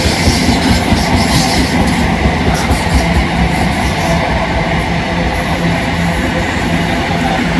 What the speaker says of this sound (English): It's the Royal Mail train.